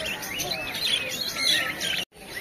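Gouldian finches chirp in a busy cluster of high tweets at a pet market in Naihati, the calls overlapping steadily with faint voices beneath before a brief dropout near the end.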